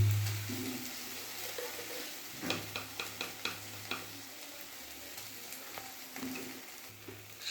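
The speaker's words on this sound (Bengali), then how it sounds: "ফ্রাই হচ্ছে। মশলাটাকে ভালো করে কষিয়ে নিচ্ছি।" Spiced masala with chopped tomato frying in a pan, a soft steady sizzle broken by scattered clicks and taps of a spoon stirring, fairly quiet and close, with no one speaking.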